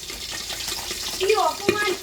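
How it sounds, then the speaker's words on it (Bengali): Water boiling in a pot on a home stove gives a close, continuous rolling bubble and hiss, with a few sharper pops toward the end. "ফুটার আওয়াজ শুনতে পাচ্ছ তোমরা"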